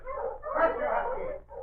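A puppy whimpers and yips in an old-time radio drama set on a snowy Yukon morning in a barn, a steady mid-loud stretch of canine whining that dips briefly near the end.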